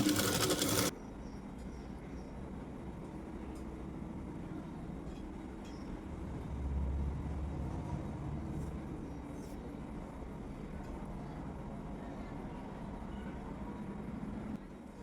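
A sewing machine stitching a cloth joint on the sleeve of a large-size blouse: a steady, close mechanical whirr running the whole time, opening with a brief louder burst.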